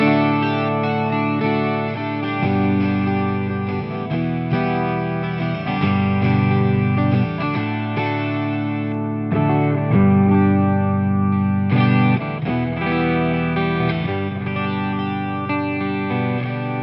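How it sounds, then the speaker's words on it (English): An electric guitar modeling a 12-string acoustic guitar, strumming rich, shimmering chords continuously and loud, with chord changes every couple of seconds and no talking. "if we maybe bring in the 12-string tuning, then it might sound a bit more like an acoustic guitar"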